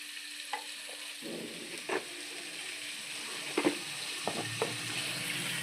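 Spices fry in oil in a pan for egg curry, giving a soft, steady sizzle with occasional light clinks and stirring scrapes, fairly quiet and close, with no talking.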